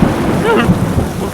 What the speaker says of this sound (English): I'm scared of thunder.